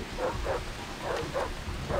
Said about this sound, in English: I hear more dogs, but...